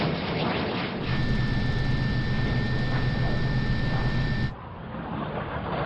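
A record-attempt jet plane flying flat out over a 62-mile course, a steady loud roar with a high whine that holds for several seconds before dropping away abruptly.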